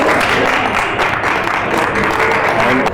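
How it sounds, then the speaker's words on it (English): An audience at a Nigerian diaspora television launch applauds: a dense, loud, sustained wash of many hands clapping close by, steady from start to finish. "so you can clap for us"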